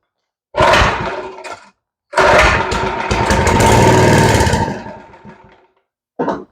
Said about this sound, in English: That motor actually sounded pretty good.